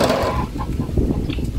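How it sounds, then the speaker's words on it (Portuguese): A hen clucks as she gets ready to lay an egg, a short run of close, loud clucks and cackles among farmyard birds on a rural homestead. "Uma galinha querendo botar e a outra tomando fartura."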